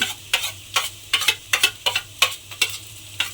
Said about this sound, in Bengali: দিয়ে এবারে আলুটা আমি একটু এর সঙ্গে মিশিয়ে ভাজা ভাজা মতো করে নেব।